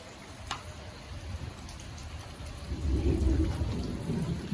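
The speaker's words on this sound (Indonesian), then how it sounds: "Hujan badai." Heavy rain pours during a nighttime thunderstorm, with constant hiss and patter, a low rumble of thunder building midway and a few nearby drip ticks.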